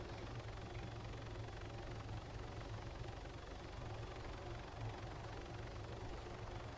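A helicopter in the video game Arma 3 drones at a steady, faint distance with a low, even rotor thrum and no break.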